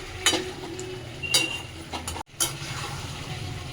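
A spatula stirs chicken chaap meat frying in oil, with several scraping, clattering strokes at irregular intervals over a quiet sizzle and a brief drop to near silence midway.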